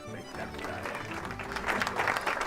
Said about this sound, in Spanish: Ahí está el aplauso para Florencia y Dionisio